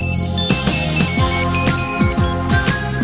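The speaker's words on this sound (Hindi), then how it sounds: "उसका फोन आ गया" A phone ringtone plays continuously for about three seconds as a bright, melodic electronic tune with repeating notes. It is fairly loud and mixed with other background sound.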